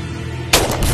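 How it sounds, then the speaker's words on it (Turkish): A single loud gunshot bursts out abruptly after a quiet moment, followed by a sharp echoing tail, close and alone without talk. "Vurdu adamı."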